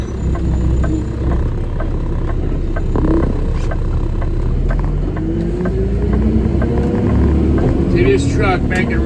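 A truck engine rumbles loudly and continuously from inside the cab as the truck drives and swings through a right turn, a low steady drone with faint clicks and rattles, while someone talks over it.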